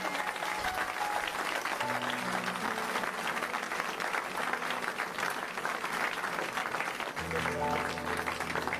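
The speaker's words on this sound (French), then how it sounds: "on acclame le Seigneur de gloire" A church congregation applauds and acclaims the Lord with steady, dense clapping, mixed with voices calling out and tonal music sounding through it for several seconds.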